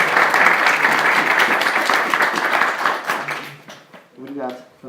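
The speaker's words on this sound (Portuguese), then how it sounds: "Salve de palmas para o nosso amigo." An audience at the second 'O Despertar da Direita' political gathering applauds a friend, Henrique Ribeiro: loud, dense clapping for several seconds that thins and fades out, followed by a voice speaking at the end.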